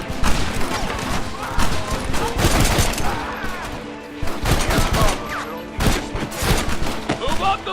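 Sustained gunfire in the Red Dead Redemption Western shootout, repeated sharp shots and volleys cracking in irregular bursts, loud and dense, with shouting voices mixed in among the reports.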